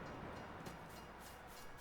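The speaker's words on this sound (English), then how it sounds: "the train engine, so we can turn that off." A locomotive engine idles steadily in Farming Simulator 22, a constant low diesel rumble with no talk over it.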